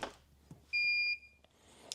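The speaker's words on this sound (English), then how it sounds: "It's beeping." An EVIQO Level 2 smart EV charger gives a single clear electronic beep of about half a second during its self-test, close and steady-pitched, surrounded by quiet handling noises.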